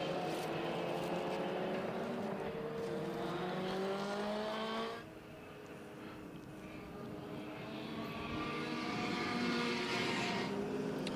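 Historic racing cars from the P, Q and R classes circle Sandown behind a safety car, their engines droning steadily under a commentator's voice, easing briefly midway before building again.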